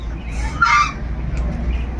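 A goose at a children's park in Buniadpur gives a single short honk, fairly close, over a low outdoor rumble and ambient noise.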